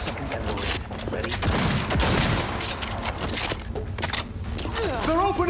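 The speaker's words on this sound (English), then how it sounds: "They're opening fire!" Gunfire in the video game Cyberpunk 2077, a sustained dense barrage of shots and mechanical clatter during a firefight, with voices talking over the action.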